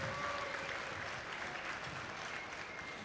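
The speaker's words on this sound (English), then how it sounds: "Please give them a huge round of applause for giving them so much of their support to FIRST" At a FIRST robotics district event, a large crowd applauds a sponsor in a big venue, producing a continuous, fairly distant wash of clapping with steady density across the whole stretch.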